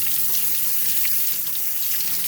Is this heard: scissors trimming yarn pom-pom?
no